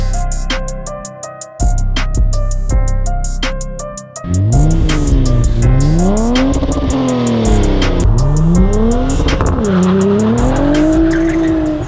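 A high-revving Mitsubishi Galant VR4 2.5 twin-turbo V6 engine, sharp clicks first, then loud rising and falling revs sweeping up and down repeatedly, close and continuous with no talking.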